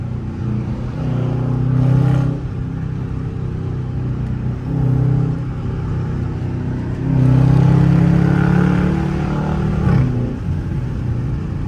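A Dodge Charger RT with a loud aftermarket exhaust weaves through traffic, its engine droning steadily and swelling into several deep, rumbling accelerations.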